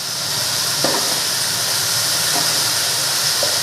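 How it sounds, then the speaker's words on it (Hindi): Potatoes and tomatoes sauté together in a pan, giving a continuous, fairly loud hiss of sizzling with a few faint knocks, heard up close and alone. "ये देखो इस तरह हम भून लेंगे आलू को।"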